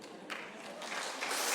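Applause from a church congregation during a sermon, a broad, hissing wash of many hands that swells partway through and keeps building, moderately distant and fairly soft.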